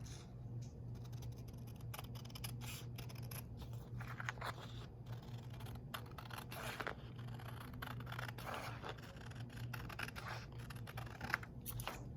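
A picture is cut out with scissors for a VLA FM display build, giving a long run of small, quiet snipping and crunching cuts at an uneven pace over a low steady hum.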